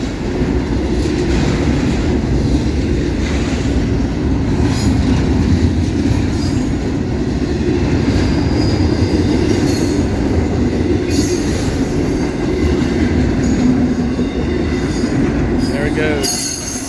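Norfolk Southern and CSX freight trains pass together in Homestead, a loud, sustained roar of rolling cars with rhythmic clatter and occasional wheel squeal near the end, heard close and continuous throughout.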